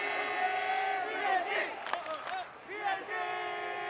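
A big esports arena crowd at a Valorant-style grand final roars and cheers in a loud, sustained wave, with scattered shouts and whoops rising above the steady din.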